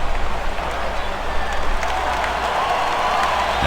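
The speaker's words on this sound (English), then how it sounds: "he's getting some encouragement here from the crowd" Steady crowd cheering and applause from a stadium in the MLB 2K5 baseball video game, a dense continuous roar of fans that holds at an even level throughout.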